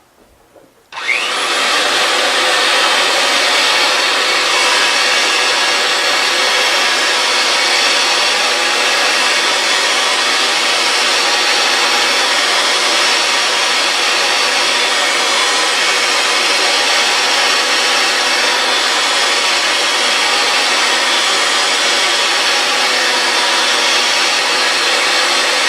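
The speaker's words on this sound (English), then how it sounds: "Now we're going to run the machine and apply a quarter turn of pressure per rotation of pipe until we cut" Compact 115V pipe threading machine running steadily as its cutter works through the end of a pipe, a loud continuous whirring grind starting abruptly after a brief pause and holding level to the end, no talk.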